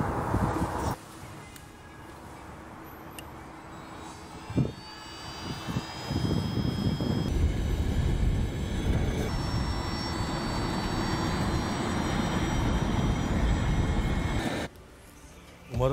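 A jet-powered scooter's turbine engine roars steadily at close range, with a high whine layered over a deep rushing drone for most of the stretch before cutting back abruptly near the end.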